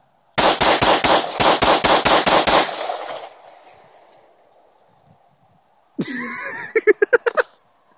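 A rapid volley of loud gunshots rings out at night, about a dozen sharp reports in quick succession, followed by a fading echo. After a pause a second, shorter burst of closer shots follows.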